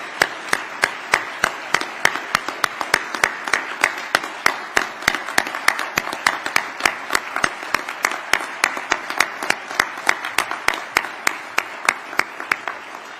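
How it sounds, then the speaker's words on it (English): A crowd applauds Trooper Larea at a ceremony honoring law enforcement officers. The clapping is loud and sustained, with dense, crisp claps in an even rhythm that continue for the whole stretch without talk. "And why don't we give a round of applause to the Trooper Larea"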